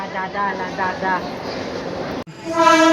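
A train rumbles close by with a steady rolling roar, and a loud tonal horn-like blare cuts in near the end; voices from a crowd eating nearby are faintly mixed in.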